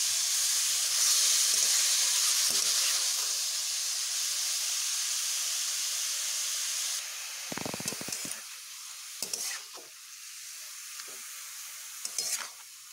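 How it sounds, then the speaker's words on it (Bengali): Giant taro stems sizzle loudly in hot oil in a pan, a steady bright hiss for several seconds that drops off into quieter crackles and a few scraping stirs. "এবার এগুলোকে আমি একটু বেশ ভালোভাবে ভেজে নেব।"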